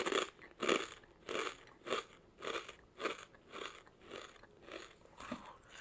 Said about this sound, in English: let me eat one of these chips.